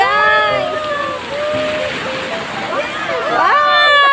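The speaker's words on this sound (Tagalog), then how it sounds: "Lakas ng alon, guys!" Strong waves slosh and splash around a small boat on the way to a sea cave in Ilocos Norte, a steady watery wash throughout with excited voices talking and calling over it.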